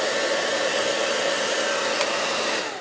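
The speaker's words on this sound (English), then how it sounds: "But you can also use the blow dryer right here on this" A blow dryer runs steadily throughout, a loud continuous close-up whoosh with a hum, used in a makeup setting, fading slightly at the end.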